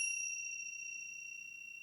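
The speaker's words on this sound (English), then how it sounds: "we have meditation bells. And when we start the meditation, it'll be one chime" A single meditation bell is struck once, leaving a clear, pure tone that rings on and fades slowly over near-silence.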